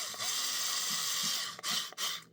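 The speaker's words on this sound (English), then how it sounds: "I get a little screw gun with a number, I think it's a number 1 Makita bit, and it'll hold the screws in magnetically" A small 4-volt screw gun fitted with a number 1 Makita bit drives small screws during a Hot Wheels wheel swap. It gives a close, thin, high motor whine that bends in pitch and is cut by brief stops near the end.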